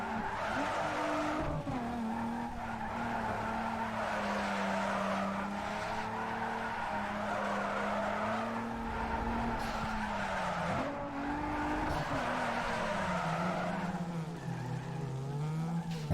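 A street racer spinning out in the game Need for Speed Underground 2, with a long wavering tire squeal and skid over a steady engine drone, loud and sustained for the whole stretch.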